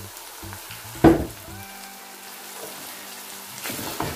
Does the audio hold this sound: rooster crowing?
no